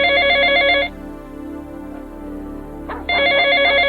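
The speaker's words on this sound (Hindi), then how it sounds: "तभी फोन की घंटी बजी।" An electronic telephone ringtone with a warbling bell-like trill, sounding in two bursts separated by a two-second pause, loud and close with no speech.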